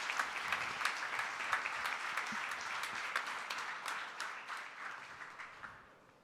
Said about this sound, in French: On l'applaudit également.